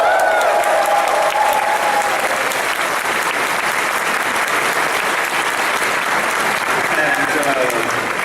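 Loud, dense applause from a large audience at a furry convention opening ceremony, a continuous wash of clapping and crowd noise filling the hall throughout.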